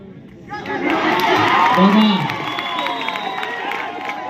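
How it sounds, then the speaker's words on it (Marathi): Spectators at a village kabaddi tie-breaker match cheer and clap as a crowd noise swells, shouts and whoops rising over a dense roar, with an announcer's voice carrying over the din. "पक्कड झाली तरी टाळ्या वाजणार आणि गुण मिळवलं तरी टाळ्या वाजणार"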